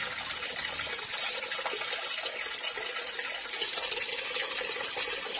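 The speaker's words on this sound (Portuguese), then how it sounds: "Tô colocando água aqui no tanquinho" Water gushes steadily into a small washing machine tub from a tap, a continuous broadband rush that stays even and fairly loud for the whole stretch, with no voices over it.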